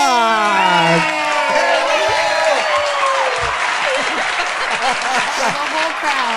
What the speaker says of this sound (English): We have a whole crowd here cheering for you.